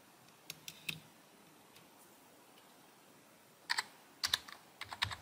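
Keys clacking on a PC keyboard wired to an Arduino, a few sparse taps early, then a quick cluster of crisp keystrokes near the end, close and fairly quiet with no talking.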